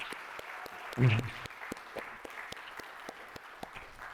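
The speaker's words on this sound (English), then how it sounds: "a round of applause for Claire is warranted at this point in time" A brief swell of audience applause at a conference plenary session, with scattered claps, settling into lighter, intermittent clapping that continues at moderate volume.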